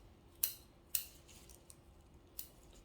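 Freshly diamond-sharpened bonsai snips cut crepe myrtle twigs: four crisp, quiet snips at irregular intervals, two sharper clicks early and two softer ones later, over a faint background hum.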